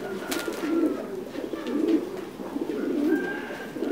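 Thai Titan meat pigeons cooing in a coop in Dak Lak, Vietnam: repeated soft throaty coos close by, several overlapping calls in steady rhythm over quiet background.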